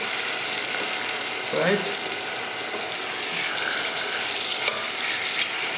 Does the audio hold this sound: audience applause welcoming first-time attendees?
no